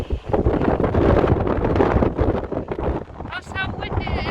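Strong wind on a Shetland hillside buffeting the microphone in loud rough gusts that rise and ease, with brief voice sounds near the end.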